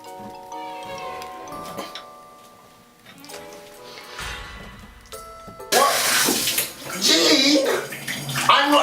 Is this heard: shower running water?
yes